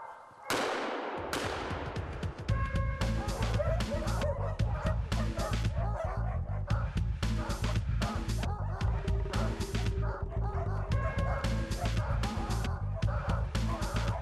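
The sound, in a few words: hunting hounds barking and yelping while chasing game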